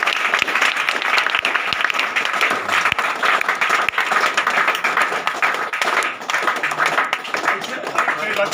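An audience claps loudly and continuously to welcome a speaker at a business event, a dense sustained applause with sharp individual claps standing out near the microphone, while voices carry faintly underneath.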